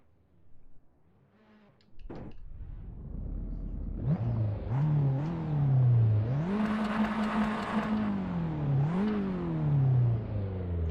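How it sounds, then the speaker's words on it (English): A car engine in the Assetto Corsa racing game revs up through several rising pitches and gear changes, a loud, steady engine drone building after a quieter start. "Some of the cars don't sound so great in the Assetto Corsa, but this one sounds pretty nice."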